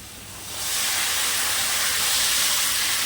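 Boiled, minced chickpea mixture for chana masala ghugni hits a hot wok and bursts into a loud, steady sizzle. The hiss rises sharply within the first half second and holds, close and uninterrupted, with no talking.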